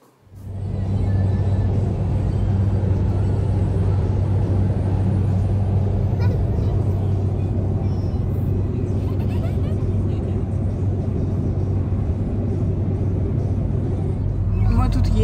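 Steady low road rumble and engine drone fill a moving car's cabin for the whole stretch, with a constant hum and faint voices underneath.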